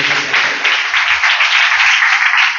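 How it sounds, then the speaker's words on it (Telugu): A church congregation claps continuously, a dense and fairly loud burst of applause welcoming a speaker to the stage that holds steady for a few seconds. "అందరూ చప్పట్లు కొట్టి"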